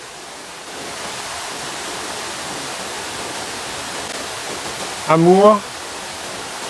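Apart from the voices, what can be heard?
waterfall in a forest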